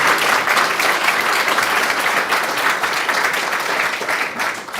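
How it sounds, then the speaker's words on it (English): Audience applause for seminar panelists closing an energy storage technologies session, steady dense clapping filling the whole stretch at even loudness with no voices. "I would like to have one last big round of applause for all our panelists for the great discussion"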